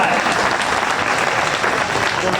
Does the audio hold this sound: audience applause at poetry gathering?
yes